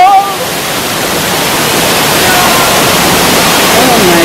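Waterfall on the Cane River in Jamaica, a loud, broad and steady roar of falling water heard up close, with no breaks.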